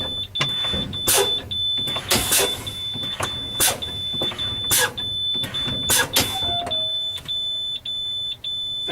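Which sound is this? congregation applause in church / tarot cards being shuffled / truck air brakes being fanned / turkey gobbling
truck air brakes being fanned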